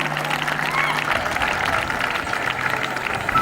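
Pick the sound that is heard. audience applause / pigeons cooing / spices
audience applause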